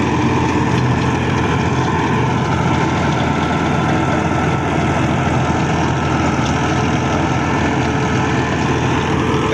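A Massey Ferguson 260 Special Edition tractor runs in first low gear driving a 48-blade rotavator, a loud, steady, close engine drone with a low rumble and no voices.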